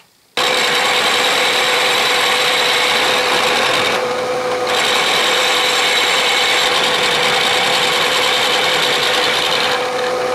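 A metal lathe takes a skim cut on a cast iron hand wheel, giving a loud, continuous scraping hum with a steady tone that starts abruptly, dips briefly, then runs on.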